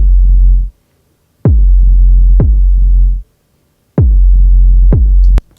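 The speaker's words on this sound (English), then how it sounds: "Next, we have a synth subkick." Five deep synthetic kick hits with booming sub tails, arriving in loose pairs, loud and isolated against silence.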